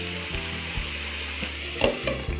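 Potatoes stirred in a frying pan for a potato fry with salt and turmeric, giving a steady close sizzle with a few louder scraping knocks of the spoon near the end.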